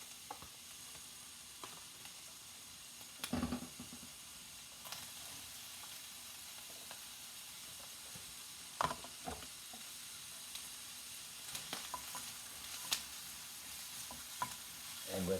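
Onions sizzle quietly in a pan for moussaka, a soft constant frying hiss broken by a few sharp scrapes and clinks of stirring, heard close and alone.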